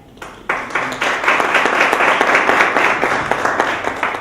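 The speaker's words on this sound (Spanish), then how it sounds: "y un aplauso" Audience at a cultural lecture hall breaking into applause after a quiet moment, a sudden rise into steady, rhythmic clapping from a modest crowd, fairly close and sustained.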